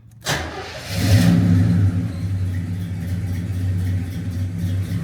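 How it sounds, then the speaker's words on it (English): A 1977 Oldsmobile Cutlass engine cranks and catches with the carburetor removed, surging loudly for a moment before settling into a steady, rough idle that fills the rest of the clip. "Let me see if she'll start without the carburetor."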